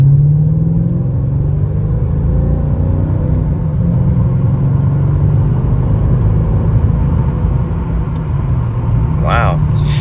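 A Mercedes E55 AMG, warmed up after a tune-up, drives along with its engine rumbling loud and steady from inside the cabin through smooth gear changes, and a short voice cuts in near the end.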